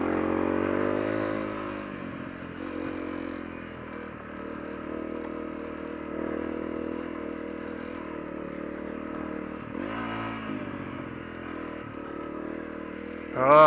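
A Honda CRF250L dirt bike climbs an off-road hill on a green lane, engine droning steadily with small surges and rattles from the rough track, close and continuous throughout.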